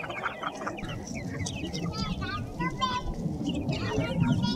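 A backyard flock of chickens clucks and murmurs steadily around the coop at bedtime, many overlapping close calls forming a continuous busy chatter.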